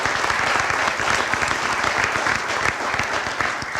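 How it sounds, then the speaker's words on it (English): A crowd applauds at a spring sports honors event, with dense steady clapping that holds at an even level for several seconds, fairly close, with no speech over it. "Can we give Brett a round of applause?"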